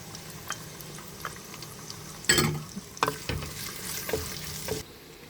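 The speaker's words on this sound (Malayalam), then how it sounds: "ഞാൻ കറിവേപ്പില ഇടുവാണ്" Curry leaves dropped into hot oil for a large fish head curry crackle in sharp sputtering bursts over a low frying hiss, with a few smaller pops between them.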